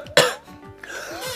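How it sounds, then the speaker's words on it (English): One person gives a sharp, close cough followed by a short throat-clearing rasp, heard over faint video game sounds. "I was coughing."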